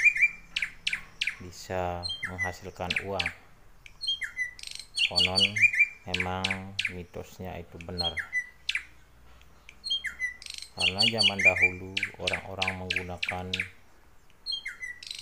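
Sri Gunting drongo calls, sharp chirps and squawks repeated in bursts, heard beneath a person talking.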